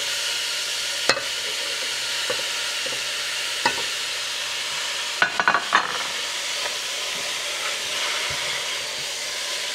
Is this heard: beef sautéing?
yes